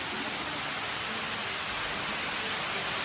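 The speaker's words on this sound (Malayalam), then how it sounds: "എനിക്ക് വെയിറ്റ് ഉള്ളതുകൊണ്ട് ഇവിടെ വെള്ളച്ചാട്ടം" A waterfall at Munnar gives off a steady, loud rush of falling water, a dense roar that stays even throughout with no speech.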